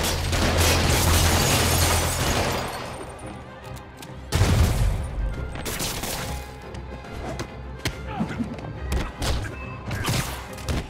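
Gunfire and heavy thuds from Spider-Man Remastered on PS5, a dense loud burst of shots and impacts at first, then a sharp boom near the middle, followed by scattered hits and combat noise.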